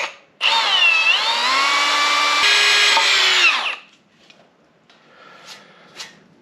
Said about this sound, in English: the first thing you do when you rebuild an engine is drill a hole in the block